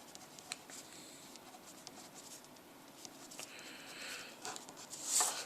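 A pen or pencil writes out an algebra equation by hand in quick, faint scratching strokes, close and quiet, with no talk.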